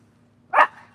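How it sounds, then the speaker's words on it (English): A single short, sharp dog bark rings out close by over a low steady hum on a porch, then quickly fades. "What are you barking at?"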